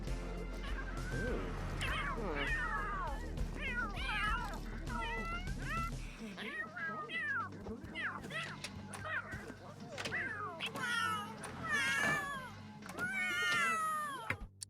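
Cats in The Sims 3 video game meowing and yowling repeatedly, several overlapping drawn-out cries rising and falling over a low game background hum that cuts out partway through, with a sharp crack near the end.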